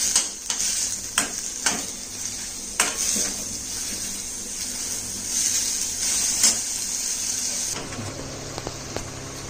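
Chopped onions sauté in hot oil with ginger and garlic, giving a steady loud sizzle broken by sharp scrapes and clinks of a spoon against the pan.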